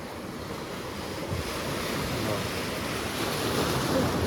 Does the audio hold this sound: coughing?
no